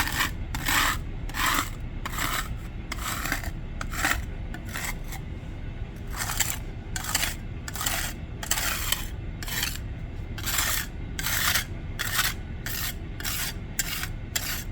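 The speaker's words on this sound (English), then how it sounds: "I'm going to use a putty knife to level it." A putty knife levels crack filler on a concrete foundation wall in repeated rhythmic scraping strokes. The rasping swipes are close and fairly loud, with a few short pauses between the passes.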